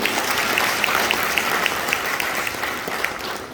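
A crowd at a Brahma Kumaris spiritual gathering in Shahabad Markanda applauds steadily, a broad wash of many hands clapping at a lively, even level, with a few sharper claps standing out.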